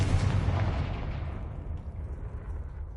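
A Confringo fire spell explodes in Hogwarts Legacy, one loud broadband blast at the start that rumbles and fades into a long decaying tail, with no talk.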